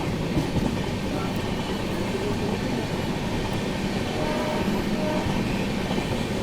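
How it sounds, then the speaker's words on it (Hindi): The Delhi–Yeswanthpur Duronto Express roars along at speed with a steady, loud rumble and faint wheel clatter, with no voices. "तो अभी अपनी ट्रेन स्किप करने जा रही है सिरपुर कागजनगर रेलवे स्टेशन"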